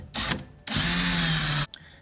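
A power drill with a dull bit bores into a wooden door, with a short burst, a brief pause, then a steady whine of about one second before it stops.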